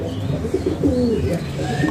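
Pigeons coo softly in low, rolling calls, several overlapping nearby against a steady background murmur.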